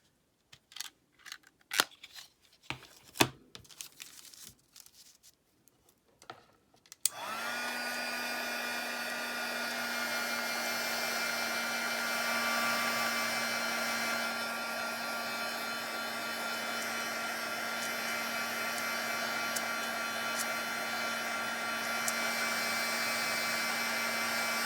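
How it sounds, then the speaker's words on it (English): Heat tool blowing steadily to set stamped pieces on resin Christmas ornaments, a loud continuous whirring hiss with a hum that starts abruptly after a few seconds of small handling clicks and taps, then runs unbroken to the end. "So now I'm going to go ahead and heat set both of those pieces that I just stamped."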